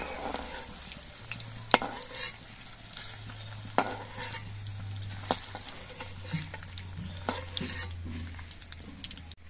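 Onions sizzle steadily in a pan for a dish of jackfruit and paneer, with sharp clicks and scrapes of a utensil stirring them at irregular intervals; no one speaks.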